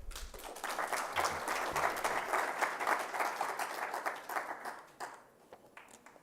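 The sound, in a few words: audience applause at a conference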